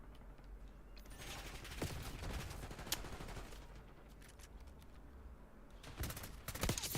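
Bursts of automatic gunfire from a gun in a first-person shooter video game rattle in quick rapid volleys with brief pauses, fairly faint overall with a few sharper louder shots.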